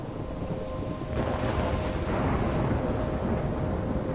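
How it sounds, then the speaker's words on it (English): A loud thunderstorm in Life is Strange, with steady heavy rain and a deep rolling rumble of thunder that swells midway and keeps going, heard without any voices. "I'm trapped in a storm?"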